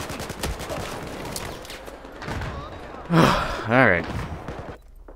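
Assault rifle fire in Battlefield 4 during an online match: scattered sharp shots, then a loud burst of rapid gunfire around the middle, with someone briefly speaking over game noise.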